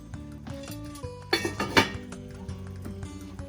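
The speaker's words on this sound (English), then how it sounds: "Put a lid on it now." A metal lid settles onto a pot of simmering meatball sauce in a home kitchen, giving a few close clinks and a brief rattle before quieting.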